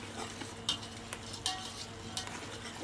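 Peanuts and roasted chana frying in oil as they are stirred in a pan, giving a quiet steady sizzle with a few soft scraping stirs at intervals.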